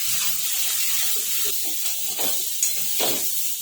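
Hot tempering of mustard seeds, curry leaves, green chillies and white sesame hissing as it is poured over soft dhokla, a steady broadband sizzle with a few brief spattering bursts, close and continuous, no talking.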